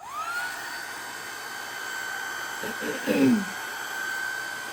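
A hair dryer runs steadily as it dries painted art swatches, a constant whooshing motor with a brief voice murmuring faintly under it.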